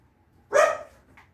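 Dog giving a single sharp, close bark, followed by a faint short yip in an otherwise quiet setting.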